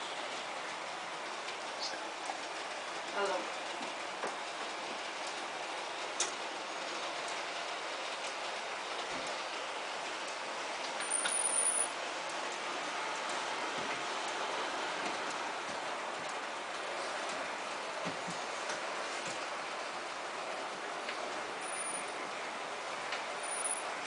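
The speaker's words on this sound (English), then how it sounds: "There you can see the other train is taking off automatically." A McDonald's model train runs on a Christmas village layout, giving a quiet, steady whirring rumble with faint clicks of wheels on track and no one talking.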